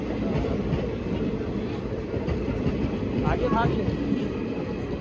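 A passenger train runs on the Khariar Road to Kantabanji line, giving a steady rolling rumble with faint rail clatter. Voices talk over it inside the carriage.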